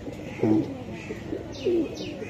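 A male Pakistani pigeon in a loft gives two soft, low coos about a second apart, each a short rolling warble, fairly close but quiet over faint background noise.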